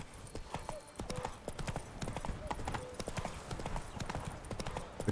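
Roach, the horse in the video game Witcher 3, gallops in a fast, even run of hoofbeats, with a brief whinny and faint talk underneath.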